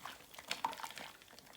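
Wet felt is dunked and squeezed in a bowl of water. The close, soft sounds are faint splashes and sloshing with small drips and squelches, and no one speaks.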